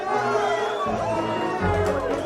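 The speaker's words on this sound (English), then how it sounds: "They're cheering this." A crowd cheers and chatters in a 1917 wartime scene from the video game 11-11 Memories Retold, a steady murmur of voices, music and scattered shouts swelling near the end.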